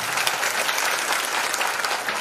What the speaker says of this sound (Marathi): एकदा सगळ्यांचा जोरदार टाळ्यांचा आवाज आला.